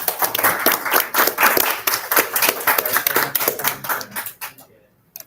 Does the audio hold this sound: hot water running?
no